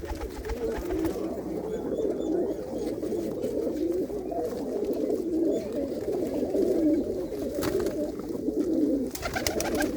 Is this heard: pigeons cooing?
yes